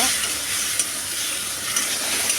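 Chili and spices are stirred and fry in a hot pan for a potato, pointed gourd and fish curry, giving a loud, continuous close-up sizzle with no talk.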